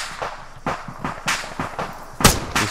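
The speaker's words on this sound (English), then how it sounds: "I need a grenade over that fence." A grenade goes off in an Arma military game as a sharp, punchy blast within a string of muffled thumps and gunfire-like pops spread over a few seconds, fairly close and loud.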